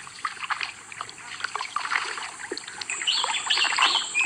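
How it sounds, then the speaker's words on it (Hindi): Wooden oars dip and pull through water as a boat moves slowly through the Sundarbans mangrove forest, a soft continuous splashing and trickling with birds chirping close by throughout. "मुझे सिर्फ उन चप्पुओं की आवाज सुनाई दे रही है जो पानी को चीरते हुए नाव को आगे"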